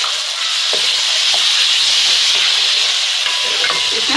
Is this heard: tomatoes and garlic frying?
yes